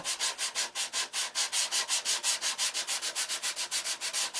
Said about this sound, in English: when I'm done with this sanding